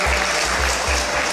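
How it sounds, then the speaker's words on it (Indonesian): Applause for the Sundanese community at a fifth-anniversary gathering of the Paguyuban Pasundan Papua, a dense burst of clapping from the crowd lasting just over a second. "tepuk tangan dulu untuk orang Sunda"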